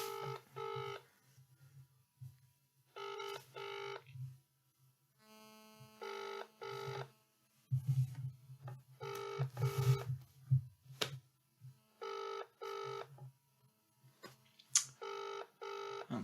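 A telephone is dialled with short bursts of touch-tone beeps, followed by repeated ringback tones while the caller waits for an answer, all over a low steady mains hum with no talking.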